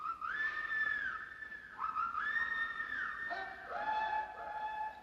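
A whistle blown as a signal in a western film, several sustained, wavering shrill tones in a row, loud and fairly close against a quiet background.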